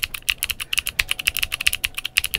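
Rapid, crisp typing on a keyboard with Glorious Raptor heavy tactile switches, a dense run of close, sharp clacks in an uneven rhythm, with no voices.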